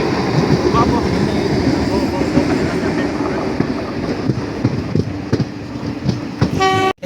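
A Jan Shatabdi Express train leaving Chennai Egmore rumbles and clatters loudly over the rails, ending with a sharp horn toot near the end.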